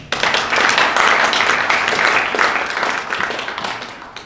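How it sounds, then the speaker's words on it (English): Guests at a fundraiser dinner banquet applaud a team, a full, sustained burst of clapping from a crowded room that gradually fades. "A huge round of applause for this team for a great endeavor"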